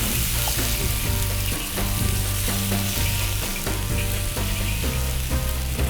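Tomato added to spring onion whites frying in oil in a pan, for tomato and egg on rice: a steady, loud, dense sizzle runs throughout, with low rhythmic tones in the background and no talking.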